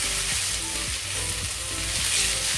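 Ingredients for Singaporean rice frying in a pan, a steady, loud sizzle of hot oil with faint scraping strokes of stirring underneath, continuous throughout with no talk.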